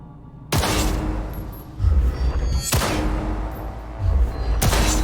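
Heavy video game weapon blasts during tactical target practice come in three spaced booms, each a loud crack with a low thud and a short decaying tail.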